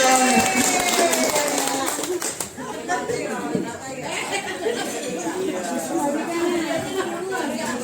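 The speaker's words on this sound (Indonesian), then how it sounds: "Tepuk tangan dong." An audience claps amid lively chatter and voices, with scattered hand claps rising through the crowd noise as a voice with a tonal quality fades early on.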